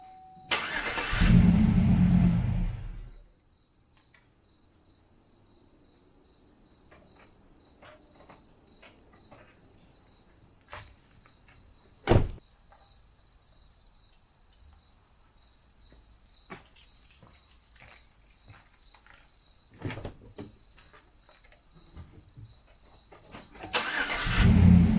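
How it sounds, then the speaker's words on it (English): Truck engine cranked with a Foxpeed 21000mAh jump starter pack: a loud cranking catch and engine burst at the start, then quiet outdoor night with chirping crickets and faint clicks, and another loud engine surge at the end. "I'm going to hook up the Foxpeed jump starter, and we're going to see how fast it'll start my truck"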